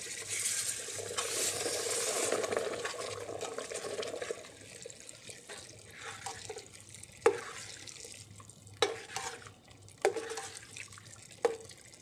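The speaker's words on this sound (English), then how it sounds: "add brown stock" Brown stock poured into a sauce in a pan: a steady close liquid pour for about four seconds, followed by several sharp clinks and taps of a spoon or whisk against the pan in a quiet room.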